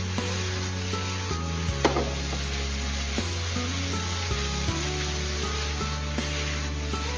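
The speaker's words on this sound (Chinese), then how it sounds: "接着再猛火给它翻炒个10来秒钟" Carrot and chicken shreds stir-fried in a wok over high heat, a steady close sizzle with scraping and tossing of the spatula throughout, no talking.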